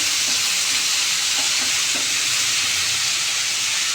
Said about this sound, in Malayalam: ഇപ്പോൾ തക്കാളി നല്ലോണം ഒന്ന് വഴണ്ടി വരണം.